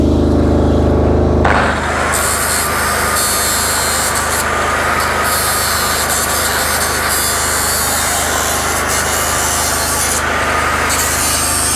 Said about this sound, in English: just clean up with the grinder.